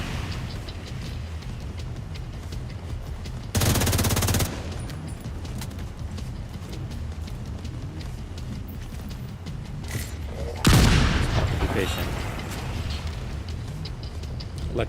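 Pistol fire in the video game The Division 2 comes as two loud, sharp bursts of shots, each lasting about a second, over a constant wash of in-game ambient noise.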